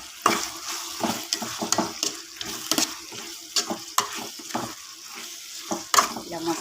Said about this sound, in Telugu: ఇలా మొత్తం ఒకసారి కలిపేసేయాలి.